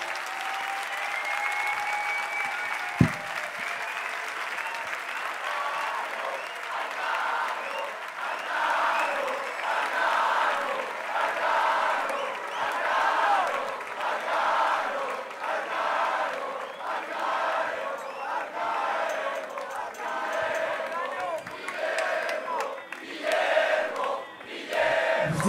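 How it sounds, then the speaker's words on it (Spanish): A large crowd at an FMS Valencia freestyle rap event applauds and cheers for Arkano, a steady roar of clapping with shouts rising and falling over about twenty-five seconds, plus a sharp thump early on. "Un fuerte aplauso para Arcano"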